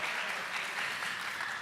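An audience applauds at an academic law faculty session on the future of legal education, with steady, continuous clapping that welcomes a professor and carries on at an even level throughout.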